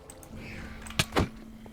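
Vexes summoned by an Evoker in the video game Minecraft make two sharp, bright bursts in quick succession over a faint steady hum, brief and close.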